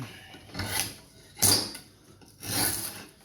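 A draw knife shaves an Osage orange wood bow in three rough, rasping strokes, close and moderately loud, with short pauses between pulls.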